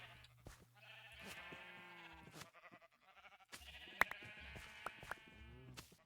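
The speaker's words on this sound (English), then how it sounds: "I probably have to go ahead and release the sheep" Sheep bleating in Minecraft, several clear repeated bleats in two bursts with a short quiet gap, fairly close and alone.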